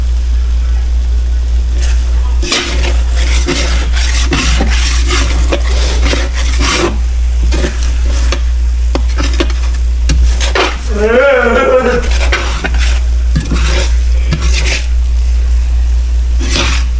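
Mushrooms and onions cook in a roux in a pan on medium heat, giving a soft sizzle and scraping stir strokes close by, with a loud steady low hum beneath and a voice talking over it.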